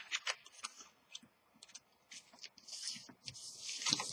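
Scissors snip through paper while cutting out a Valentine's card, a series of crisp close cuts of varying length, loud and near with no talking.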